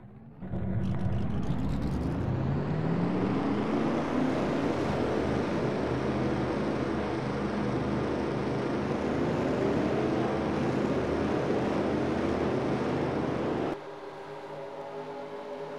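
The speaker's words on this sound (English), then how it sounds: "Drivers, start your engines." Stock car race engines firing up at Michigan. A dense, loud roar swells in within the first second and holds steady for over ten seconds with no talking over it, then drops to a lower level near the end.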